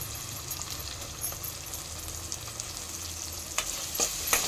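Ginger garlic paste and tomato fry in a pan for a yam curry, giving a steady close sizzle with a few sharp stirring scrapes and clicks toward the end.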